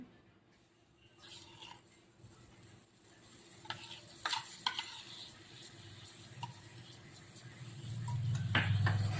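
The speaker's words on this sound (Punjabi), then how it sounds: "ਹੁਣ ਆਪਾਂ ਇਹਨਾਂ ਇਹਦੇ ਨਾਲ ਮਿਕਸ ਕਰ ਦੇਵਾਂਗੇ ਬੇਸਨ ਦੇ ਵਿੱਚ ਚੰਗੀ ਤਰ੍ਹਾਂ" Fresh cream being stirred into gram flour in a pan with a spoon, giving soft scraping and clinking strokes that come and go, growing slightly louder toward the end, with no talking.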